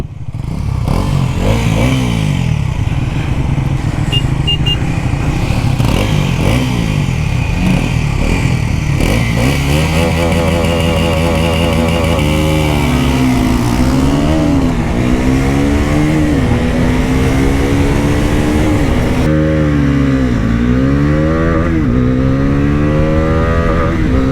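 A Bajaj Pulsar NS400z and a Triumph Speed 400 accelerate hard side by side in a drag race, engines droning loud and near in repeated rising revs broken by gear shifts, with no talk.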